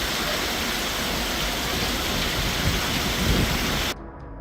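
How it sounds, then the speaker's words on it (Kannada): Heavy rain pours steadily in Chikkamagaluru in the Western Ghats Malnad region, a loud, dense, continuous wash of water that stops abruptly near the end. "ಚಿಕ್ಕಮಗಳೂರು ವ್ಯಾಪ್ತಿಯಲ್ಲಿ 2-3 ದಿನದಿಂದ ಮಳೆ ಸುರಿಯುತ್ತಿದೆ."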